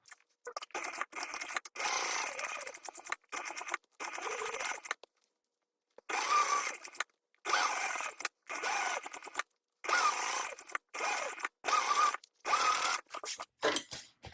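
Sewing machine basting around a fabric bag panel with a lining at an eighth-inch seam, running in short bursts of stitching separated by brief pauses, close and clear with no talk.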